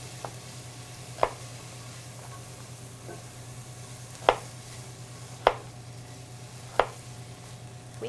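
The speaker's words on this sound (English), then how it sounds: "we just need to chop the carrots" A knife chops carrots on a cutting board for sweet potato chowder, with a handful of sharp, separate strikes spaced irregularly over a steady low kitchen hum.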